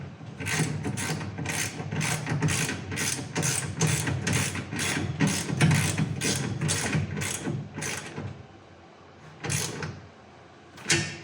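A ratchet wrench tightens a carriage bolt on a garage door's 90-degree corner bracket, giving a steady run of quick, close ratcheting clicks that slows to a few separate strokes near the end.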